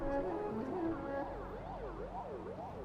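A wailing ambulance siren rising and falling in steady sweeps, heard at moderate distance over low background rumble.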